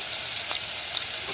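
Onion, garlic and kavurma frying in vegetable oil, a steady close hiss of sizzling with faint stirring, no talking.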